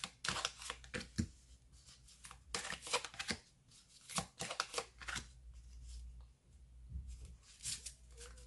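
A deck of tarot cards is shuffled by hand for a card reading, giving repeated crisp riffling bursts and soft slaps close up, in an irregular rhythm with no speech.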